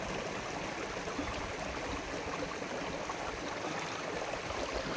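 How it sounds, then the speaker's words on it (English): River water flows steadily in the Gila Wilderness as a constant, even rush of moving water with no breaks. "I'm in the river, taking a little walk, doing some exploring."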